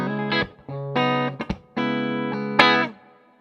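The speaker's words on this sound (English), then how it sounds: "I kick in my little reverb pedal here." Electric guitar run through a small reverb pedal into a Seymour Duncan Powerstage 170, several held chords and short plucked notes ringing out with reverberant tails that fade at the end, played alone.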